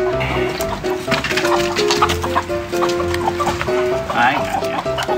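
Chickens cluck and squawk repeatedly nearby, a busy overlapping chorus with people talking and moving around underneath.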